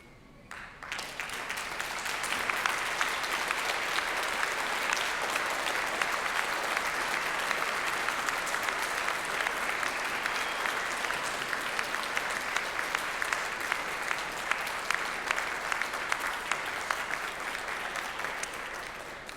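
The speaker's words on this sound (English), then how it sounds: "express your gratitude by a round of applause" A graduation audience at Monash University gives a long, loud round of applause. Dense, continuous clapping from a large crowd holds steady for about twenty seconds.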